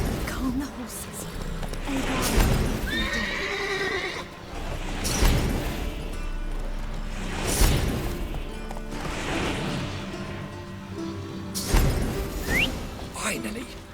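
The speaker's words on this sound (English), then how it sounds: "Gotta calm all the horses before they wake the guards." Horses in The Witcher 3 whinny and snort in a stable, several loud neighs rising at intervals among bumps and clatter, with a voice speaking in between.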